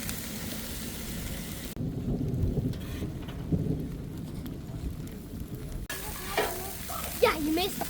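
Burgers sizzle on a grill in a low, continuous crackling hiss, with a gusty outdoor rumble behind it as a storm approaches.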